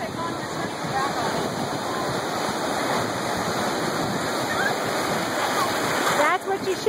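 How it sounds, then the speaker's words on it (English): Ocean waves break and wash continuously at a beach, a dense steady surf roar close by with a brief splash near the end, while voices talk faintly underneath. "I tell them when the wave is coming to turn."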